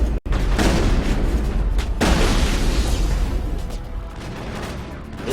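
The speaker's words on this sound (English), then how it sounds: "it's so much fun using super strong weapons against the Geth" Heavy weapons fire against Geth enemies in the Mass Effect video game, a dense, loud stretch of overlapping blasts and booms with a few sharp bursts standing out over continuous rumbling combat.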